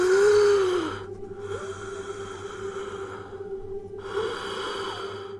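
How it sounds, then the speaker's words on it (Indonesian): Heavy, breathy sighing, not a human voice, drifts from inside a house in the dark: long hoarse exhalations that swell, fade and swell again over a steady low hum, with no talking. "Terdengar suara, bukan suara manusia, seperti napas berat atau desahan dari arah dalam rumah"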